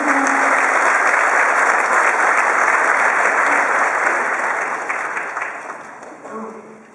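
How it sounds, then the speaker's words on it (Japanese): A large audience at a Liberal Democratic Party rally in Miyazaki claps in loud, dense sustained applause that holds steady and then gradually fades toward the end. "拍手をお願いします。"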